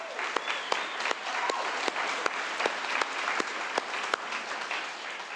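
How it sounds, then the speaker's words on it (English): Audience applauds a physical therapy class at a college white coat ceremony, sustained dense clapping filling a large room, with sharp individual claps standing out through the steady roar. "How about a round of applause for this group?"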